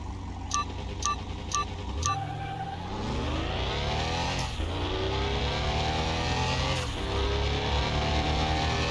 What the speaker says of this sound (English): Alright, so let's try this supercharged V8.